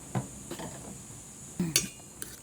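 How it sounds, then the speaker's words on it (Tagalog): A utensil stirs a runny sardine and egg omelette mixture in a bowl, giving a few faint, scattered clinks and scrapes against the side, close by and quiet. "Haluin lang natin mga sangkay."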